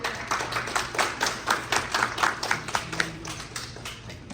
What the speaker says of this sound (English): Can you give a good big round of applause to Lacey?